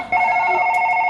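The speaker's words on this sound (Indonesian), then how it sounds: "Telepon. Angkat teleponnya." A telephone rings in an office with a steady electronic two-tone trill that starts abruptly and carries on without a break, loud and close, and no one speaks over it.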